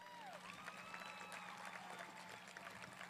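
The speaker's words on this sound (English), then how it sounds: "Let's give them another round of applause." Steady applause from a crowd at a high school graduation ceremony, with scattered cheers and whistles, moderately distant, continuing throughout.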